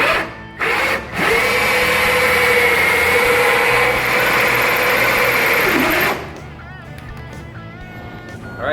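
A power drill drives the last of four screws through a boat deck to mount a tie-down for a Deckgear tournament fishing seat, a loud steady whine for several seconds that winds down and stops, leaving quieter background sounds.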